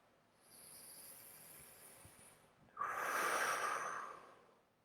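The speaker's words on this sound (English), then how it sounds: "Deep breath in" A slow, deep inhale through the nose during a guided breathing pause, with a soft airy hiss that swells into a louder, fuller rush of breath. It is heard close and alone, without talk.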